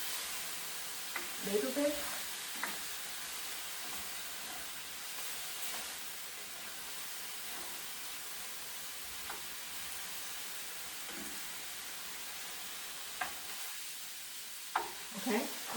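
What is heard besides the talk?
stirring broccoli beef sizzling in pan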